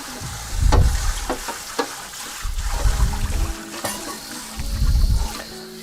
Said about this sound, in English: rinse your wok down